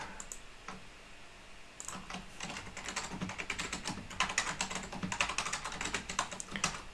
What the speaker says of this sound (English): this will be the actual password that we're going to type in